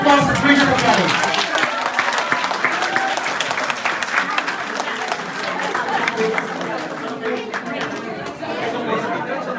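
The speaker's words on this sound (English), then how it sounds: "let's give a round of applause for Bridget McKelly" Applause from a convention audience as a speaker is welcomed: a dense, loud burst of clapping that gradually thins, with crowd chatter mixed underneath.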